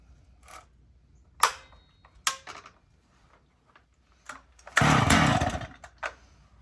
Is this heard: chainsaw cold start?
yes